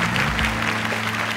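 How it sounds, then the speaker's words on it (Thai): An audience applauds steadily to welcome a judge on stage at the final round of a televised innovation awards event, with a brief burst of dense clapping. "ขอเสียงปรบมือต้อนรับนะครับ"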